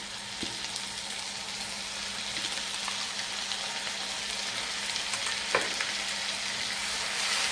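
Continuous crackling sizzle of onions frying in a pan with ginger-garlic paste, steady and close, with an occasional sharper pop and no voices.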